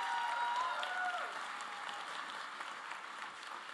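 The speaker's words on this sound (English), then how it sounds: "Give them a round of applause." Audience applause at a commencement speech, a broad, fairly distant wash of many hands clapping steadily and evenly throughout.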